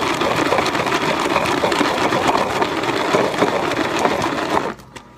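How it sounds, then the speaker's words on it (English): Tupperware Quick Chef hand chopper spun rapidly while dicing onion, a loud close rattling whir of blades and crunching pieces for several seconds before stopping abruptly. "just throw that into the Quick Chef here. Give that a couple spins."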